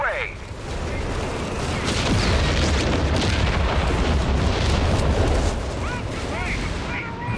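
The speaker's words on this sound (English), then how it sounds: "Rapid Arty Barrage is going to get the job done." Rapid artillery barrage explodes in Company of Heroes 3, a dense, continuous rumble of booms and blasts with gunfire mixed in, loud and sustained, under a voice commentating.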